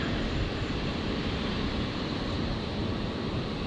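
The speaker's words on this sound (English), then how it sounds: "So the brand new 321 Neo in the new livery here, Jetstar, being cleared for departure." A Jetstar Airbus A321neo in new livery rolls for takeoff at Brisbane airport, its engines giving a steady, broad rumbling roar that holds evenly throughout.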